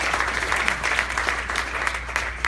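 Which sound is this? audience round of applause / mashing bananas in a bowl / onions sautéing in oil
audience round of applause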